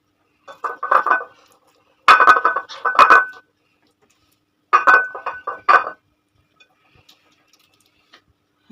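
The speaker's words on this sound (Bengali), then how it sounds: "সেটাকে আমি একটা প্লেটের মধ্যে নেব" Mashed eggplant bharta dressed with mustard oil is served onto a plate, bringing three quick bursts of close, sharp clinks of utensil against dishware separated by silence.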